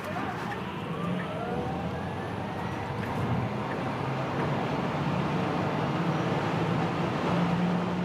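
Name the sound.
Tesla Model S Long Range accelerating onto motorway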